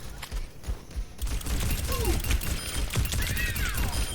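Mercy's Caduceus blaster firing in the Overwatch video game, a dense run of rapid shots over constant game noise, with short whistling effects and a bright chime layered in.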